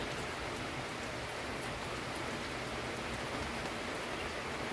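Steady rain falling, a dense even hiss of drops on a surface, constant and moderately close with no other sounds.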